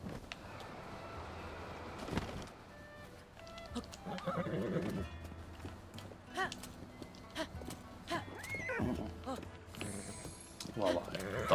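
A horse in a video game whinnies and neighs amid busy game noise, with hoof clip-clops and scattered effects; people talk over much of it, and the calls stand out in short bursts.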